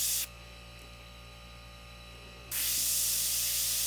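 An airbrush spraying paint onto a lamp post model hisses in two steady bursts separated by a quieter stretch where only a low electrical hum remains.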